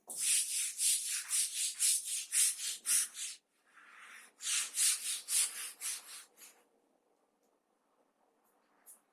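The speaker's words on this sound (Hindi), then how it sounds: "इधर वाला क्वेश्चन रब करते हैं" Rhythmic back-and-forth rubbing of a duster wiping writing off a board, two bursts of quick strokes separated by a pause, then quiet.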